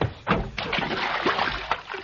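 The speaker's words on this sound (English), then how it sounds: "Hey, oh, don't pour that water on me" Water poured over a man sitting in a bathtub in a western drama, a close splashing, sloshing pour lasting a couple of seconds with several surges, no speech.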